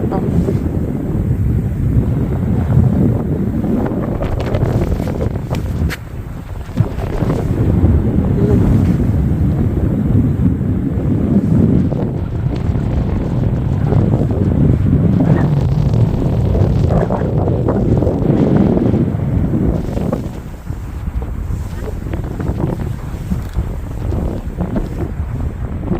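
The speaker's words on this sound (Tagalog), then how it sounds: "Ang lakas ng hangin." Strong gusting wind buffets the microphone beside a lake in snow, a loud continuous low roar with surging and fading gusts throughout.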